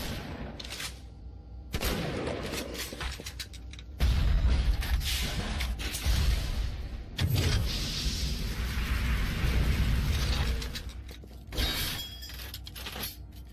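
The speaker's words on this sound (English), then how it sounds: "I'll fire each weapon so you can see what I'm talking about." Weapons firing in the video game Bioshock: repeated gunshot bursts and sharp impacts come in separate volleys, fairly faint overall, with short pauses between shots.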